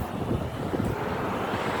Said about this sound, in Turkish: rüzgar estikçe var ya. Serin serin vuruyor yüzüne.